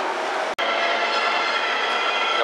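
A train pulls away from a station platform on a Japanese line, a steady broadband rumble and hiss of wheels and cars rolling close by, continuous apart from one momentary dropout.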